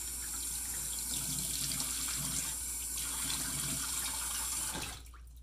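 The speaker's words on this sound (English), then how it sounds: "So I'm just going to wet the face and we'll get this going." A tap runs steadily into a sink for wetting the face before a straight razor shave, a close hissing stream that stops abruptly near the end, with no talking.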